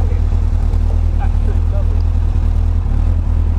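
A Honda CBR-1000RR motorcycle engine fitted in a Mk car runs with a steady, loud low drone and constant idle-like throbbing, close by, while a voice speaks over it.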